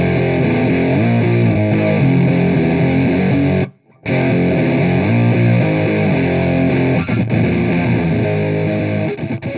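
An electric guitar with built-in distortion plays a riff: loud, thick, chugging chords throughout, with one brief silent break near the middle.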